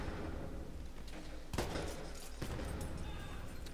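A grenade thrown and exploding in Battlefield 1, a sharp blast at mid-clip followed by a smaller burst, sitting within constant battle noise and distant gunfire.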